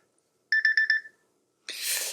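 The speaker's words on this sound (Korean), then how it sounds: "아이쿠, 알람이 울립니다." A short alarm tone rings four quick evenly spaced beeps, clear and fairly close in a quiet room, followed after a pause by a brief rustling noise.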